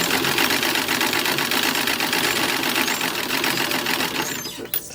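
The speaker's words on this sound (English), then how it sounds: "this is the binding getting sewn on" A sewing machine runs steadily at speed, stitching binding onto the edge of a single-layer collar for a 1920s summer dress, a loud close continuous whirr that stops abruptly at the end.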